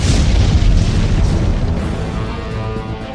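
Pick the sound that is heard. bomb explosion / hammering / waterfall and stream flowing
bomb explosion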